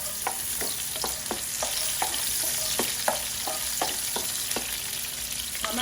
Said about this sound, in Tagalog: Gisa na natin ang ating magkasama na bawang sibuyas.